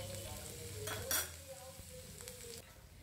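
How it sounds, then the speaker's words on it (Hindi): Roughly chopped onions sizzle softly in a pan as they fry for a Hyderabadi paneer gravy, a quiet steady crackle with a short clink of a utensil stirring partway through. "तो चलिए प्याज को जो है सॉफ्ट होने तक हम पका लेते हैं"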